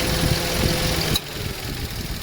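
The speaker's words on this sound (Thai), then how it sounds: "เสียงเครื่องยนต์ตอนที่คอมไม่ทำงาน" A Mitsubishi Mirage engine idles with a steady low rumble; partway through, a click as the AC compressor switches off and the background hum drops, leaving a quieter, smoother idle.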